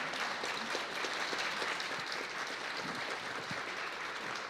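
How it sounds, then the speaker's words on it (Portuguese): Steady, dense clapping from an audience at a youth piano recital, filling the whole stretch at moderate distance with no talk over it. "uma salva de palmas para elas."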